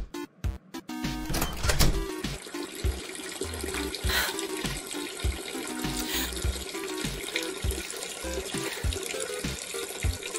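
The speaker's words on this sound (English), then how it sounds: "Let's flush the toilet." A toilet flushes in an animated short, with a loud rush of water that swirls and drains steadily for several seconds and no voices.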